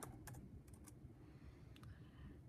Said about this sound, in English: You're going to hit Control C on your keyboard.